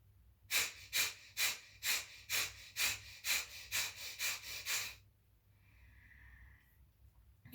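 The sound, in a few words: deep belly breathing during yoga breathing exercise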